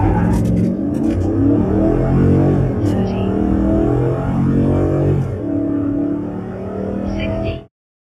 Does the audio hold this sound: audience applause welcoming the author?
no